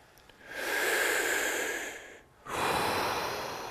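Deep breathing in the Wim Hof method: two long, steady breathy exhales, close and airy, separated by a brief pause, with no talking.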